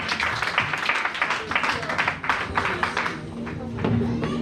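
A church congregation applauds during a French-language service, a dense steady patter of many hands clapping together, with voices and some musical tones underneath toward the end.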